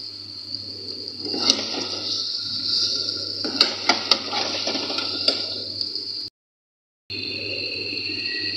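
A spoon stirs chicken handi gravy seasoned with salt and black pepper in a pot, giving a few sharp clinks and scrapes against the metal over a steady hiss, with a brief silent gap near the end.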